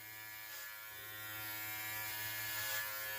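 Hair clipper with a ceramic blade buzzing steadily while cutting hair at home, a continuous close-up electric hum that grows slightly louder partway through, with no talking.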